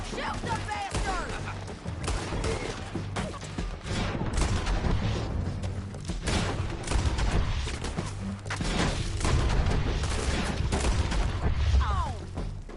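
Gunfire in the Western game Red Dead Redemption 2, a dense, continuous fusillade of shots and booms under a shouting voice, loud and sustained throughout with repeated sharp cracks.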